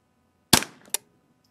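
Two sharp rifle shots from a Ruger 10/22 at an outdoor range, close and loud, the first cracking with a short decaying tail and the second following about half a second later.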